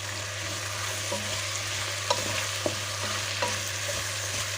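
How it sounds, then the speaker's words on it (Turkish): A utensil scrapes and stirs a pot of kidney bean stew over a steady sizzling hum, with a few soft knocks spaced a second or so apart. "Tekrar karıştırma işlemine devam ediyoruz"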